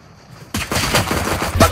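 Gunfire in a video game, a sudden loud burst of rapid shots starting after a brief quiet and continuing as a dense rattle close up.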